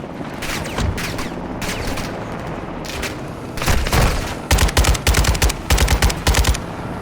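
Bursts of light machine gun fire ring out in a war video game on veteran difficulty, rapid volleys growing louder and denser toward the end over a steady battle din.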